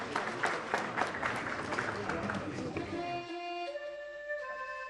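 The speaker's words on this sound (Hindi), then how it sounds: "जोरदार तालियों के साथ उनका स्वागत करें।" Audience applause welcoming a speaker at an Indian public event, loud dense clapping for about three seconds that cuts off abruptly, followed by a sustained musical tone.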